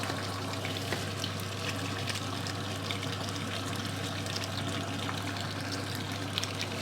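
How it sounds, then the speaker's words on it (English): Ground egusi seeds are poured and scattered into a pot for egusi soup, making a steady, dense hissing patter that holds at an even loudness throughout, close by and with no talking. "Add the egusi."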